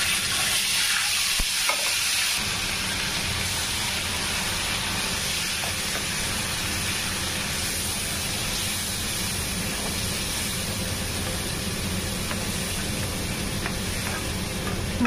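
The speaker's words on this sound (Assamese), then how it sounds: "মছলাটো ধুনীয়াকৈ মই ভাজি লওঁ।" Spice paste fries in a pan of oil for an egg curry, giving a steady, loud sizzle with faint stirring scrapes throughout and no voices.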